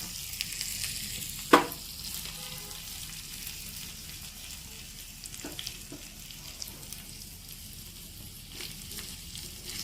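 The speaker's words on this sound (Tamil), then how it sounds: "நல்லா இது கிளறி விட்டு எல்லா பக்கம் ரோஸ்டாக இருக்கணுங்க." Food roasting in a pan for curd rice gives a continuous quiet sizzle, broken by a few sharp scrapes of stirring, one louder knock early on and a couple of fainter ones later, with no speech.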